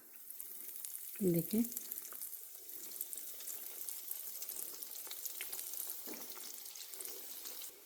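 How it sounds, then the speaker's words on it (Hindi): Chicken half-moon pies sizzle steadily in medium-hot oil, a continuous hiss with a brief louder burst early on as they go in, while someone speaks briefly over it. "अब मैं इसे फ्राई करूँगी। देखिए, मैंने ऑयल गरम कर लिया है।"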